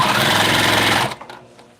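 A sewing machine hammers through thick, good-quality jeans fabric in one loud, close run of rapid stitching lasting about a second, then stops, leaving soft handling noises.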